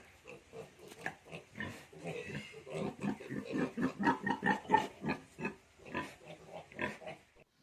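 Pigs and piglets grunting and oinking in a steady run of short calls on a pig farm in Assam, fairly close and moderately loud, with little or no talk over them.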